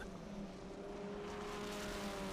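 Race cars at Road America's start-finish line in a Formula Regional Americas race at the SpeedTour event, engines droning as they pass at a distance, fairly faint and steady.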